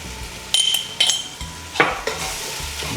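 Ground pepper goes into sautéing crushed tomatoes for ginisang ampalaya, a spoon scraping and stirring in a few sharp clacks over a steady close sizzle.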